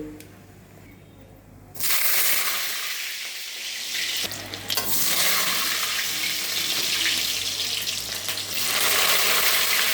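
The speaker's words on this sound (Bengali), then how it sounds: "এবারে তেলটা গরম হয়ে গেছে, কালো জিরেটা একটু ভাজা ভাজা হয়ে গেছে," Black cumin and dried red chillies frying in hot oil in a home kitchen: quiet at first, then a loud, sustained crackling sizzle bursts in and continues close up with no talking.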